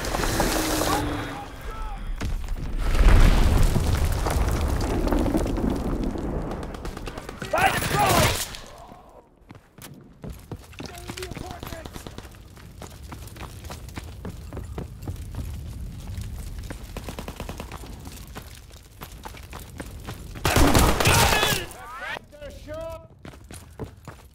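Call of Duty WW2 multiplayer battle with bursts of gunfire and explosive bomb impacts, loud crashing blasts near the start, around eight seconds and again near twenty-one seconds, with scattered shots and game voice lines in between.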